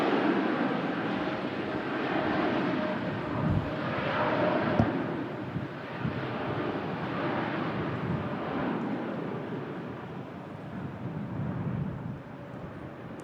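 A TUI Boeing 787 Dreamliner takes off on the way out to Montego Bay, its broad engine roar steady and moderately distant, rumbling for the whole stretch with a slight dip near the end.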